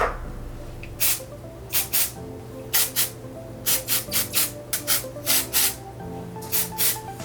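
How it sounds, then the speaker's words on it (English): IGK First Class volumizing spray is spritzed into hair in about a dozen short, crisp hissing bursts, close and clear, some in quick pairs and triplets with brief pauses between. "So I'm just going to go ahead and spritz this in."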